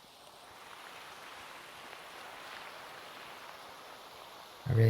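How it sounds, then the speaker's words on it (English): Steady Minecraft rain hisses evenly as a soft, continuous wash, with a louder sound cutting in at the very end. "I really love the sound of rain."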